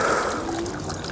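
Water pouring steadily from a garden pond cascade, a close, continuous splashing trickle with no voices.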